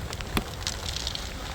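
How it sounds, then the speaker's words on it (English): Rain beginning to fall at an outdoor beehive as a thunderstorm rolls in, heard as a soft, steady hiss of drops with a brief sharper patter near the start, faint and continuous with no talking. "it's starting to rain"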